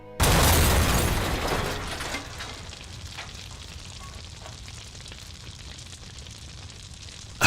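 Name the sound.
car bomb explosion with fire and shattering glass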